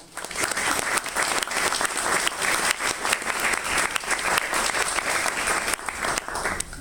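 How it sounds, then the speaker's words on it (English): Sustained applause from a sizable crowd at a book launch in the Turkish Ambassador's residence, steady clapping filling the whole stretch without pause, moderately loud and fairly close. "ask you to applaud yourselves for making time and"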